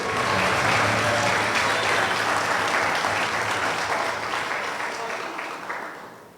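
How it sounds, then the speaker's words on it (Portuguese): A church congregation at a family worship service claps loudly in a thick, sustained round of applause that tapers off toward the end. "Só quem crê, aplauda ao Senhor e exalte a Ele."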